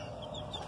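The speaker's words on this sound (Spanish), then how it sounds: "Gallito girito. Gallito blanco y 3 pollitas blancas." Young roosters and small white hens clucking in a short, soft burst of fowl chatter with no talking.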